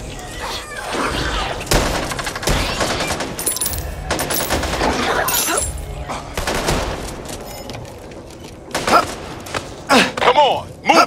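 Dense bursts of rapid automatic fire and heavy shots from a zombie-shooter co-op game on Xbox Series X, loud and continuous with scattered thuds, short shouted voices mixed in.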